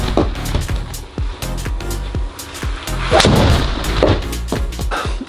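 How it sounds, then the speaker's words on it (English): A TaylorMade M6 hybrid golf club strikes balls on a range, sharp cracking impacts repeating at irregular intervals, loud and close, with fainter echoing pops around them. "we're going to go and hit 10 shots with this now"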